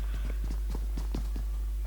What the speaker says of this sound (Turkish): Arkada bir tane daha ayak sesi var da bekle.